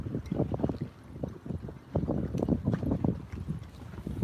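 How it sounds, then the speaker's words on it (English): Heavy wind buffeting a microphone outdoors on a windy day, with low rumbling gusts that surge and ease continuously throughout, loud and close, with no talk. "I'll try to put my hand up and block the wind from the mic"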